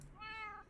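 A single short, clear meow from a kitty creeper mob in Minecraft, rising and then falling, sounding close against a quiet background.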